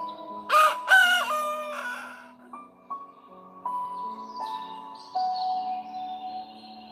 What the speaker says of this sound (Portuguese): Lembre-se que o galo está cantando todo dia, toda hora.